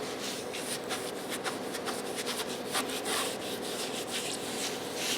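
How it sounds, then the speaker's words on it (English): A wet paper towel loaded with wood ash scrubs the glass door of a wood stove, giving a steady, close, gritty rubbing with quick repeated strokes and no talking. "We're going to scrub the glass with ash."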